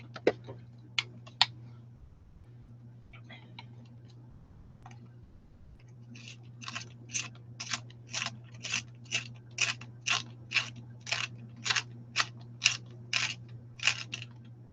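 A rapid run of regular scraping clicks, a pencil being twisted in a handheld sharpener, close and even-paced, after a few scattered taps and a low steady hum.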